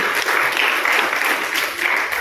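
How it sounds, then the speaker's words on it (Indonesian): An audience applauds the deputy regent at a Nganjuk discussion meeting on rising prices: dense, even clapping from a roomful of people, continuous and fairly loud throughout the short stretch. "Tepuk tangan untuk Pak Wakil Bupati."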